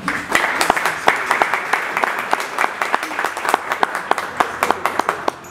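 Audience applause at an environmental education forum, a strong crowd clapping with distinct sharp claps standing out over the sustained wash, fairly close and loud.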